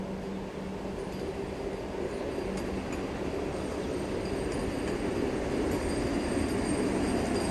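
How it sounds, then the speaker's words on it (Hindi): A sixteen-coach Vande Bharat Express rushes past a railway crossing in a steady, sustained roar of wheels and rails, heard at moderate distance with a faint high squeal above the rumble. "सोलह कोच की वंदे भारत एक्सप्रेस है,"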